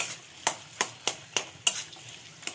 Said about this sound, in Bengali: বাপরে, ঘি ছিটকে ছিটকে চলে যাচ্ছে।